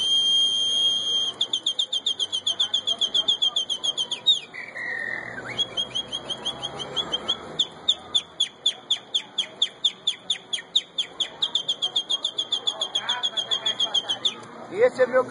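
A blind man whistles a long, rapid, rhythmic imitation of a canary's song, shrill repeated trills and pulses that are loud and close, with a short stretch of talk mixed in.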